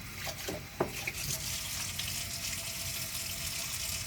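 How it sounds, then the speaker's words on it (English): Tap water runs steadily into a kitchen sink while hands are washed after making cinnamon rolls, a soft continuous splashing with a few brief clatters near the start. "put everything in the sink to be washed. Wash my hands yet again."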